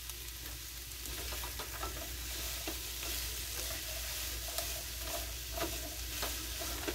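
Cushaw squash and onions sizzle steadily in a pan for several seconds, with light clicks and scrapes from a utensil stirring them close by. No voices are heard.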